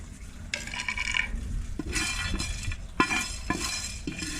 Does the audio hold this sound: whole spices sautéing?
yes